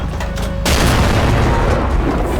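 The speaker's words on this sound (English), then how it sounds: "these tanks you can also destroy with one another, and of course they can be destroyed" Tank cannon fire in Garry's Mod, a loud broadband boom hitting sharply partway in, then a heavy rumbling decay that carries on to the end, no talking.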